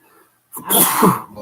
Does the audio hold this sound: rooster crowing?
no